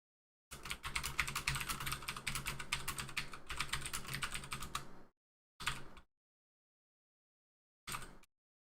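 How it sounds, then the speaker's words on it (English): Fast typing on a computer keyboard during a Total War: Warhammer II gaming session, a dense run of quick clacking keystrokes for several seconds, then two short separate bursts, close and quiet. "Clickety-clacking on my keyboard real quick just to get this next match set up."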